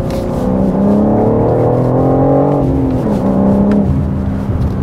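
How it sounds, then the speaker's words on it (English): A BMW M4 G82 with a manual gearbox drives and accelerates, its engine droning loudly and rising in pitch before easing off as gears change, heard continuously without talk. "taking the M4 for a drive"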